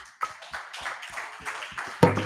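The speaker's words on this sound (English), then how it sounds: "Round of applause." A small audience gives a brief, sparse round of applause, a handful of scattered claps at moderate level ending with a louder burst.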